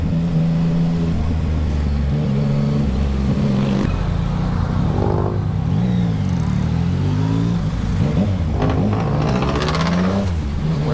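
A Yamaha XSR 900 motorcycle accelerates hard nearby, its engine revving up through rising and falling pitch sweeps with gear changes, loud and continuous throughout, with no voices.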